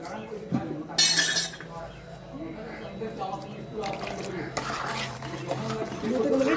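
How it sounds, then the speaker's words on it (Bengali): A bowl is rinsed and its water poured into a pan of yogurt-spiced eggplant curry, with clinking utensils, splashing and stirring close by, and someone talking at intervals over the kitchen sounds. "বাটিটা ধুয়ে একটু জল দিচ্ছি এখানে"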